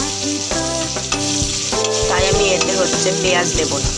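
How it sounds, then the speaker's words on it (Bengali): Carrots and potatoes fry in a pan with a continuous, fairly loud sizzle and some stirring. A person talks over it throughout, and melodic background sound is also present. "তো আমি এবার গাজরটাকে একটু গাজর আর আলুটাকে একটু ভালো করে ভেজে নেব"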